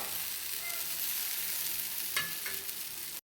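Thick mixed-flour batter for an uttapam-style breakfast sizzles on a hot tava (griddle), a steady close hiss with a few faint pops and one soft clack near the end.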